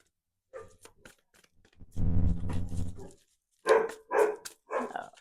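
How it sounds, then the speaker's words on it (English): A dog barks indoors in several short bursts, with a longer whimpering or yipping stretch in the middle, moderately close and fairly loud, with no talking over it. "Oh, that's my dog barking."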